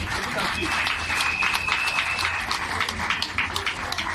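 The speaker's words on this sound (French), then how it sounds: "Vous méritez une pluie d'applaudissements." Graduates at a diploma ceremony are met with sustained applause, a steady mid-level wash of many hands clapping from an audience, with a faint tonal whistle or feedback line audible partway through.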